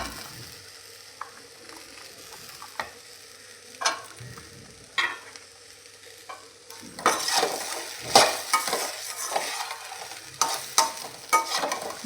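Onion, green chili and pumpkin sautéing in a pan, a low sizzle throughout with scattered spoon scrapes that grow busier and louder in the second half as the vegetables are stirred.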